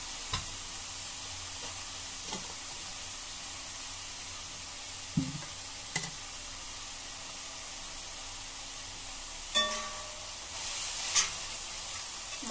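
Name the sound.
sautéing ingredients for Schezwan fried rice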